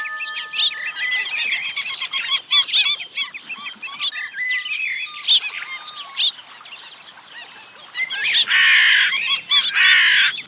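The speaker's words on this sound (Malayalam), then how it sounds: "അതൊരു കാക്കയാണ്." A crow caws repeatedly out in the open amid other chirping birds, with a louder, denser burst of cawing near the end and no speech.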